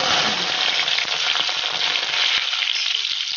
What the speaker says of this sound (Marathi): मी यामध्ये फक्त लसूण पाकळ्या आणि हिंगाचीच फोडणी घालत आहे